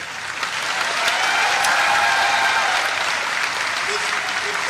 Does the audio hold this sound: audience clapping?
yes